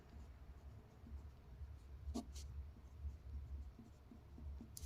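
A pen scratches on paper while a math exam problem is written out, with soft, faint, irregular strokes near the microphone and one brief sharper tick midway, no talking.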